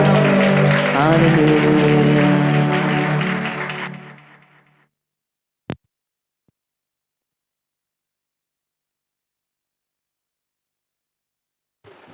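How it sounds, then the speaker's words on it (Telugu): A church congregation claps loudly during a Sunday worship service, a dense burst of applause mixed with voices that fades out after a few seconds, leaving near silence with one sharp knock. "అందరూ బిగ్గరగా చప్పట్లు కొడదాం"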